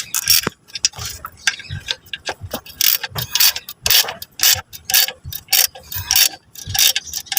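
A ratchet wrench clicks in repeated short bursts while the clutch assembly bolts on a Mitsubishi Mirage G4 are tightened, close and crisp, with pauses between strokes.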